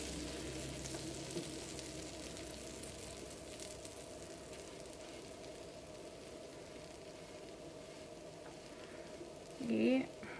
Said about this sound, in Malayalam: ഈ കട്ട് ചെയ്ത് വെച്ചേക്കണ ഈ ബ്രെഡിൻ്റെ ഈ സ്ലൈസ് ഇത് ടോസ്റ്റ് ചെയ്യാൻ വേണ്ടിയിട്ട് വയ്ക്കാം